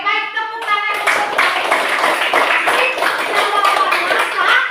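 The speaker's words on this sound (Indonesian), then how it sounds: "Oke, baik, tepuk tangan." Classroom of children clapping their hands together in a quick rhythmic burst, loud and close, with a few young voices calling out over the claps.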